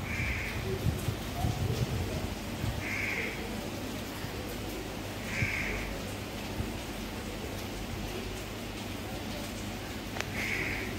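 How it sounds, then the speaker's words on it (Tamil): A crow caws repeatedly outdoors at a home, four evenly spaced calls at moderate distance over a steady background hiss, with faint soft rain-like noise. "காக்கா இன்னும் இருக்குமா?"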